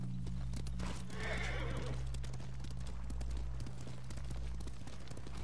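Horse hooves clip-clopping at a gallop with a loud whinny partway through, in the samurai game Ghost of Tsushima, over a steady low ambient hum.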